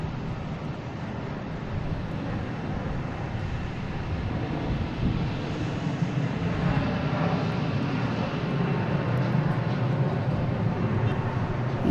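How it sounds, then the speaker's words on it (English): An Airbus A321 airliner on a flight in from Punta Cana produces a steady, broad engine roar and rushing wind. The noise holds constant at a moderate distance and swells slightly toward the end, with no talk over it. "this was flight 1296 coming in from Punta Cana,"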